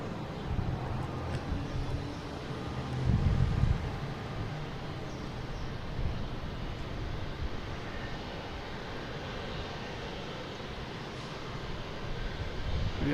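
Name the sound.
Korean Airlines jet taxiing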